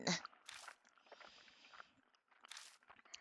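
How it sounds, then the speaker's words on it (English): Wet, gross squelching noises come from a telephone receiver in a video game, a few soft bursts of sticky, fleshy sound spread through the short moment, with no talking. "There goes those gross squelching noises again."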